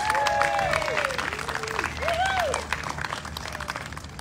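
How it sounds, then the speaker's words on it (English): A crowd claps for the musicians of a community band at a seaside concert in Wildwood, New Jersey, the applause steady throughout while whistling tones and voices rise over it. "give the round of applause to these great musicians and the great band"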